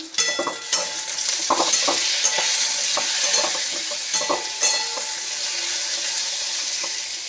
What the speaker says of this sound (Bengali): আলু ভেজে নিয়েছি এবার পটলটা ভেজে নিচ্ছি